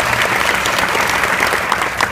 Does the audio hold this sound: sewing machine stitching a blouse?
no